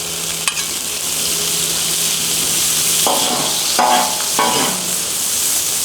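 Beef and noodles sizzling on a Blackstone griddle, a steady close frying hiss with a few scraping stirs of a spatula and clattering bursts as food is tossed, no voices.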